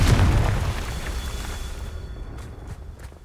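Confringo fire spell explosion in the Hogwarts Legacy video game: a loud, booming blast at the start that rolls off and fades over a few seconds, with faint crackling and a few small pops near the end.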